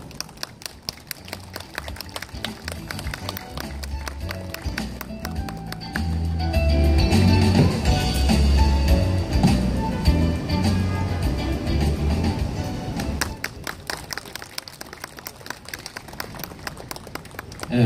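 An audience applauds at a National Foundation Day ceremony in Seoul, dense clapping that builds and swells toward the middle, then thins out and fades toward the end.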